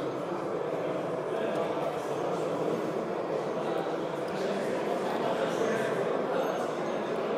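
A Spur 1 gauge model train runs steadily on its track at a model railway meet in Munich, giving a continuous rolling rumble with faint background chatter throughout.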